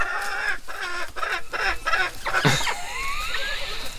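Chickens clucking and squawking nearby in a short burst of overlapping calls, with one rising cackle near the middle and a trailing drawn-out call toward the end, no one talking.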